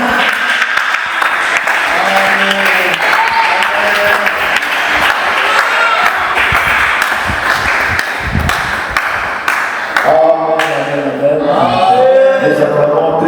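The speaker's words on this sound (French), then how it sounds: "Nous acclamons très fort." A church congregation applauding, sustained loud clapping with ringing tones and cheering voices throughout, swelling louder near the end.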